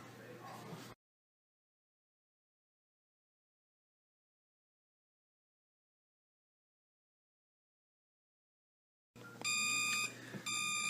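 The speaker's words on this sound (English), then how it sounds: "So now you get this, what they call bird chirping, which is just an alarm" Maverick Henrietta egg cooker's done alarm: a quick run of bright, evenly spaced electronic chirping beeps near the end after a long silence, with a voice briefly at the start.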